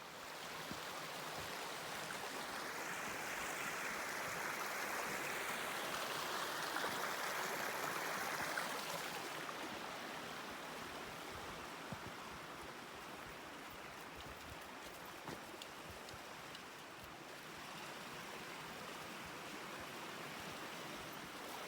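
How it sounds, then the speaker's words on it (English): Small creek flowing beside a forest trail on the South Willamette Trail, a steady broadband wash of running water heard close and continuous, slightly louder in the first half. "That's a beautiful little creek."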